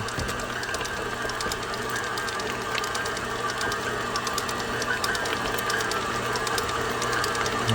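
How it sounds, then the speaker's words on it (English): A 25-year-old KitchenAid stand mixer runs steadily throughout, a continuous motor whir with a rapid mechanical clatter, close and fairly loud with no talking. "Good old KitchenAid mixer. I think it's like 25 years old. Still going strong."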